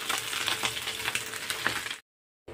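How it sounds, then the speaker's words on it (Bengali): Small chuno fish fry in hot oil while being turned, a close, steady crackling sizzle with occasional sharper pops for about two seconds before cutting to silence. "এইভাবে আমি উল্টা পাল্টে মাছগুলোকে ভেজে নেব"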